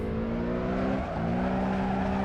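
Race car power sliding in the Assetto Corsa racing game, engine holding a high droning rev with layered harmonics, briefly dipping and rising again as the tires scrub, loud and continuous without any talking.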